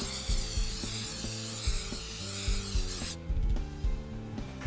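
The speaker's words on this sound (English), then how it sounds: "Now we're ready for the adhesion promoter. We're just going to spray that on." Steady hissing of an aerosol adhesion promoter sprayed onto plastic for a repair runs for about three seconds over rhythmic background music, then cuts off while the music continues.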